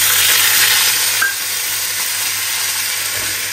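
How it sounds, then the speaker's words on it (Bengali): Ginger frying in hot oil with curry leaves in a pan for spiced potatoes, a loud steady sizzle and hiss heard close up with light stirring scrapes, no talking. "আদাটা দিয়ে একটু নাড়িয়ে চাড়িয়ে আলুটা দিয়ে দেবো"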